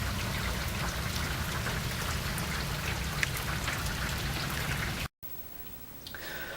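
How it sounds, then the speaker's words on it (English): Heavy rain from Tropical Storm Ida pours down steadily in a constant, dense wash of drops, loud and close, with no talk, cutting out briefly near the end before a quieter patter resumes. "you can see all this rain coming in"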